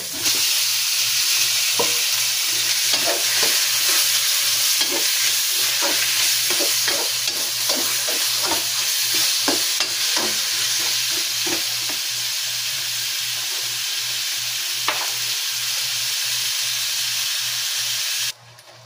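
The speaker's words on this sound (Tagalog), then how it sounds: "Ilagay natin ang ating chicken." Chicken sautés with aromatics in a pan for chicken tinola, a loud continuous sizzle and hiss with frequent clicking stirs and scrapes, cutting off abruptly near the end.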